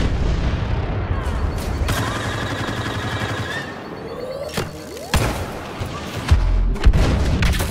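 Weapon secondary fire in Star Wars Battlefront sets off repeated explosive blasts and booming shots. Loud bursts land every second or two over a constant battle din, with whistling projectile sounds between the hits.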